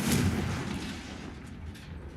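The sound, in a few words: Confringo fire spell blast, from video game Hogwarts Legacy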